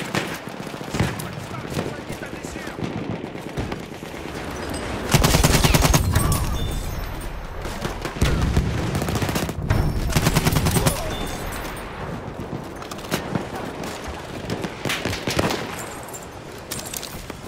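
Machine gun fire in the Battlefield video game, loud rapid bursts and dense volleys of shots on and off throughout, with other battle noise in between.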